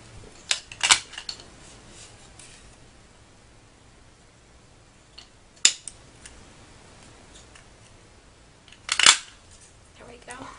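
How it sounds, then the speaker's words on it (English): Sharp punching clicks from a Fiskars small scallop punch pressed through paper come in a few separate bursts against a quiet room, with soft paper rustle between them. "And this is the Fiskars small scallop punch."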